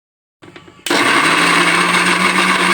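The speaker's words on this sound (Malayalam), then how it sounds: "ചൂടാറിയതിന് ശേഷം ഇതൊന്ന് അരച്ചെടുക്കണം" An electric mixer grinder starts with a short stutter, then roars steadily at full speed while grinding cooled ivy gourd with peanuts and green chillies, loud and close with no talk.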